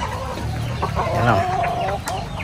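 Chickens and roosters cluck on a free-range farm, several short close calls over a steady background, with a brief spoken word.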